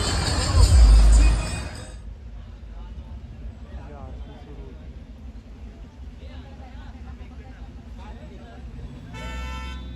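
Night road traffic in Pune: a loud car horn blares at the start, then a steady engine rumble carries on with background voices, and another horn toots at the end.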